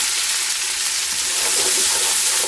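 Ginger and garlic fry in a hot pan for a lamb curry, giving a loud, continuous sizzle close by. The crackling hiss stays even and unbroken for the whole moment, with no voices.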